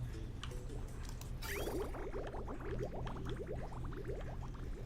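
Faint gurgling and bubbling liquid from water pumps in the video game Oxygen Not Included, with a quick rising swoosh followed by a steady stream of small bubbly pops under a low hum.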